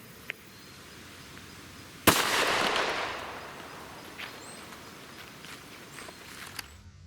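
A single sharp 10mm pistol shot fired from a Glock 29 into a ballistic gel block, a loud crack with a decaying outdoor echo, followed by faint small knocks.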